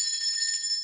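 A bell rung to cleanse a space sends out one bright, shimmering high-pitched ring that hangs steadily and fades slightly at the close.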